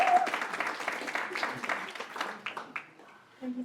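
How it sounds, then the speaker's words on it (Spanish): Audience applause at a public consultation forum in Mexico City, a burst of clapping from a room of people that is strongest at first and thins out toward the end, followed by a brief voice. "Un aplauso."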